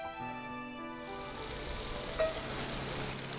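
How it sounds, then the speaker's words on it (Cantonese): Pork belly stir-frying in a hot wok, a steady close sizzle and hiss that builds after a brief tonal start, with a faint clink partway through. "加啲五花腩落去爆香佢"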